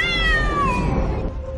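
A cat gives a single drawn-out meow, loud and close, with a falling pitch that fades away at the end.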